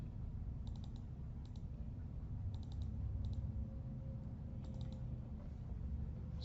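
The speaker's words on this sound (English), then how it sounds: "Just double click every single cell" Quiet, crisp double-clicks of a computer mouse while filling spreadsheet cells, coming in small paired clusters spaced a second or two apart over a low steady background hum.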